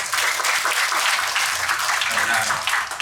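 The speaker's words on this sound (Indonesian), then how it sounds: "Mari kita beri tepuk tangan." Crowd applause at a mosque gathering with the NTT vice governor, a loud dense wash of many hands clapping steadily throughout, close and sustained with no pauses.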